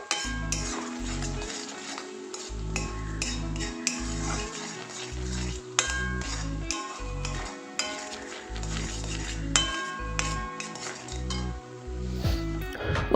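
A spoon scraping and clinking against a pan while grated coconut is stirred into a mixture for kozhukattai, with repeated metallic taps and scrapes in an irregular rhythm, close and alone.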